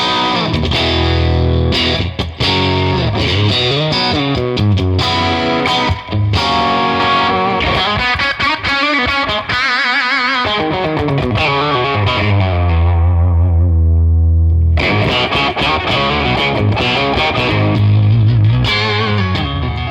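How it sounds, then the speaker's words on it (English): An electric guitar plays through a dirty Strat breakup amp preset in the PolyChrome DSP Lumos, with gritty, mildly distorted chords and picked notes, one sustained ringing passage and a brief drop-off before strumming resumes, loud and close with no talk. "So let's take a little listen to a dirty strat preset from the breakup"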